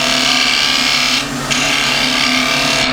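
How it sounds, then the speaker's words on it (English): A wood lathe hums steadily as a spindle gouge cuts a gumnut pendant blank with the bevel rubbing, giving a continuous close whirring hiss that briefly softens mid-way; no talking. "So bevel rubbing on the wood, and I'm drawing that back to me."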